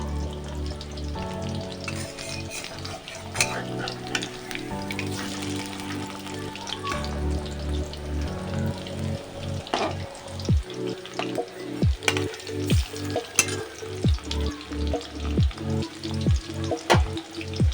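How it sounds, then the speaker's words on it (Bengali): Chicken pieces fry in hot oil over medium heat, a steady close sizzle with rhythmic clicks and scrapes as the pieces are turned and stirred through the second half. "তারপরে আমি মিডিয়ামে এগুলো ভাজছি, কারণ একবারে দিয়ে দিলে এগুলো ছুঁয়ে যেতে পারে।"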